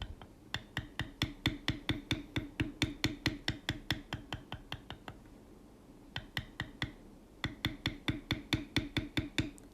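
Rhythmic metal beveler struck by a mallet while tooling a leather corner piece, a steady run of sharp close taps with a brief pause midway, then tapping resumes; no talk.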